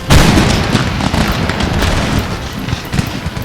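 Loud booming cannon blasts in the video game Empire: Total War, a heavy explosion at the start followed by rumbling, crackling rolls of repeated fire.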